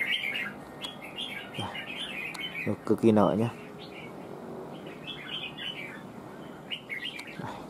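A red-whiskered bulbul, a competition fighting bird, gives repeated quick bright chirps in short bursts, fairly close, while someone talks over it.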